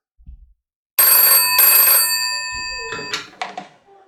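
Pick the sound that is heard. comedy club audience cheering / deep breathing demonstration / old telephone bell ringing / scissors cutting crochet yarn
old telephone bell ringing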